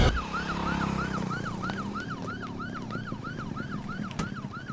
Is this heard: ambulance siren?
yes